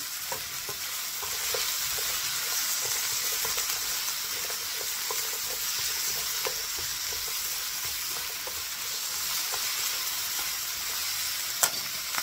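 Sliced onions and carrots stir-fry in a hot pan with a steady, dense sizzle, faint scrapes of a spatula now and then, and one sharp click near the end, all close and uninterrupted by speech.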